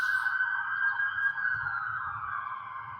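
A loud wailing ambulance siren holds a steady high tone, slowly fading and dropping slightly in pitch as it passes, with low traffic rumble underneath.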